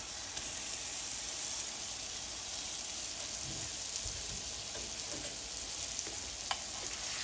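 Striploin steak frying on a buttered grill pan, a steady quiet sizzle and crackle with soft stirring scrapes, continuous and without talking.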